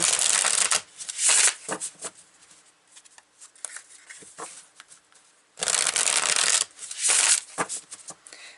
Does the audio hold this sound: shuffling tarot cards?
yes